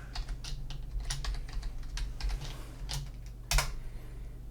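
Someone types a password on a computer keyboard, a quick run of irregular key clicks in short bursts with a slightly louder keystroke near the end, close and clear against a faint hum.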